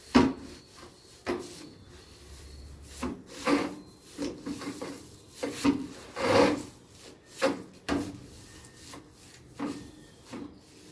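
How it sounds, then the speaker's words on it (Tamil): A stick stirs homemade compost in a dustbin, giving repeated scraping, rubbing pushes in an irregular rhythm, close and moderately loud. "இப்போ ஒரு ஸ்டிக் எடுத்து எல்லாத்தையும் மிக்ஸ் பண்ணும்."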